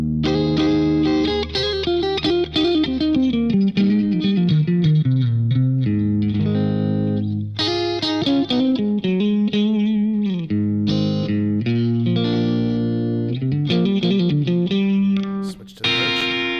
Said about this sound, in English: We'll turn the BE-100 plugin back on, and this is the clean channel